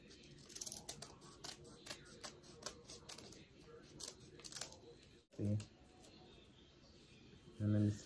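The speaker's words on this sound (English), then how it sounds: "So, you're going to start from this end and cut up." Scissors snip through folded paper while a paper snowflake is cut, a run of close, quick crisp cuts and rustles with a couple of louder handling thumps near the end.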